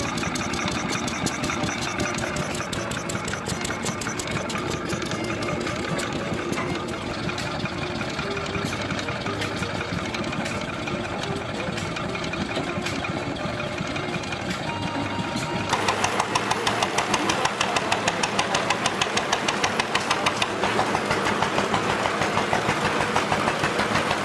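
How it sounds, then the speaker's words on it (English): Single-cylinder engine with a cast iron exhaust manifold drives a cone log splitter, running in a steady, rapid, rhythmic chug that turns noticeably louder and harsher about two-thirds of the way through, with no voices. "The exhaust note is sharp and rhythmic, mingling with gray plumes spat from a solid cast iron manifold"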